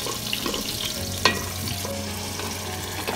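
Onions hit a hot pan with whole spices for chicken biryani, sizzling steadily with a sharp clink of utensil on metal and light stirring.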